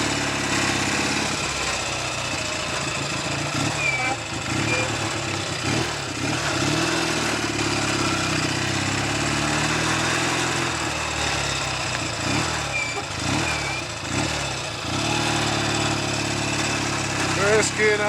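Norton Navigator 350 motorcycle with a faulty gearbox lacking second gear, its small engine chugging steadily in first gear, close and fairly loud, with someone talking over the running engine.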